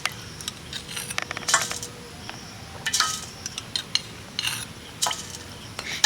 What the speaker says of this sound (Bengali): এবার এগুলোকে ভালো করে সুন্দর করে মিশিয়ে নেব এই জলের সাথে।